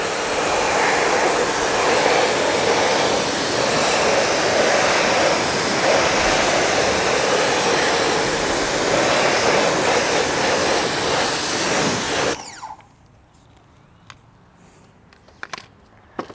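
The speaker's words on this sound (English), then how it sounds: "If you haven't bought a pressure washer and you don't want to spend a ton of money" Pressure washer spraying a 2022 BMW G80 M3 Competition xDrive during its first wash, a loud steady hiss of water jet lasting about twelve seconds, then stopping abruptly to near silence with faint small knocks.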